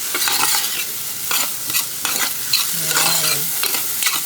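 Vermicelli sautéed with chicken, garlic and onion in a pot: steady close sizzling with rhythmic scraping stirs recurring every half second or so, and no talk.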